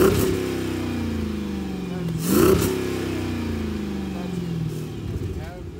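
A Jeep Grand Cherokee SRT V8 rumbles loudly at idle through its exhaust, then blips into a sharp rev that falls back to a steady, deep idle.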